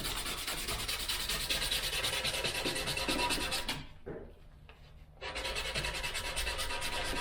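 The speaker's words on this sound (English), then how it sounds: "And we'll roll the sandpaper" Folded sandpaper rolls back and forth over the edge of a varnished wooden canoe paddle, giving a close, steady rasping rub that pauses for about a second before resuming.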